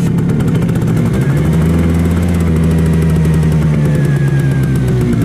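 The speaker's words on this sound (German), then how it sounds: "die Simson läuft im Standgas" A small two-stroke Simson moped engine idles loudly nearby, a steady rapid putter with a buzzy, rattling tone that holds even throughout.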